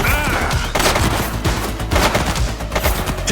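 Gunfire in the video game The Precinct, played on Xbox Series X: rapid, loud overlapping shots and bursts in a dense, continuous fusillade, close by with booming reports.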